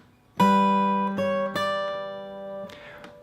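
Plucked fingerstyle guitar notes from the Celtic tune The Road To Lisdoonvarna ring out in a slow, spaced rhythm, a few strikes letting longer tones sustain before a softer final strum.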